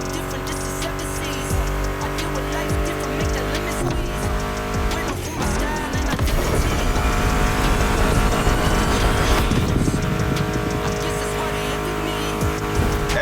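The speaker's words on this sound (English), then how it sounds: "Meshes well with the sound of the engines" Muscle car engines roar in The Crew Motorfest racing game, a steady loud drone with tire squeal mixed over a music soundtrack, swelling louder midway through.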